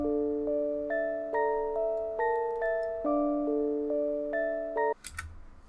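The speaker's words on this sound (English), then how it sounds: "just like a sine wave bell that kind of bounces back and forth from ear to ear" A synth sine-wave bell with no effects plays a slow, bouncy pattern of clean ringing chord tones, each strike decaying smoothly, alone and clear, ending with a brief noisy click.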